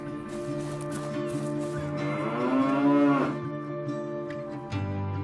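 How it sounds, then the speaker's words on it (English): A bull in the video game Just Cause 3 gives a long, loud, drawn-out moo that rises and falls in pitch over several seconds, heard alone with no talk. "the most amazing thing is this bull"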